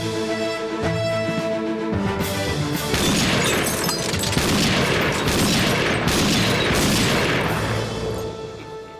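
An old gun fires in a dense, echoing outburst of sharp cracks and booms that roll on for several seconds, loud and close, with no talk over it.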